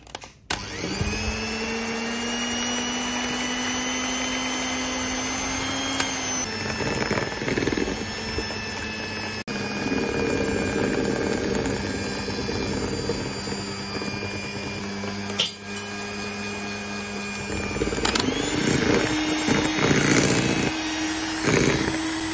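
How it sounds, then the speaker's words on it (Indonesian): An electric hand mixer runs at high speed, beating egg batter for a cake, a steady loud motor whine with a shifting pitch and a rattling, churning edge throughout. "Lalu kita naikkan ke kecepatan yang paling tinggi. Mixer sampai putih, kental, dan berjejak."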